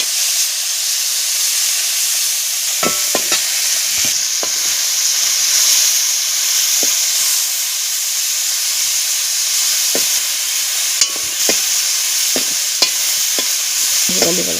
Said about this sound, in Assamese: বিলাহী দি দিয়াৰ লগে লগে গোটেই ধোঁৱা ধোঁৱা হৈ গৈছে।